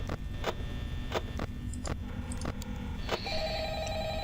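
An old telephone rings in the Five Nights at Freddy's game, a repeated rhythmic burst of ringing about every half second, clear and moderately loud over a low hum, with no talking.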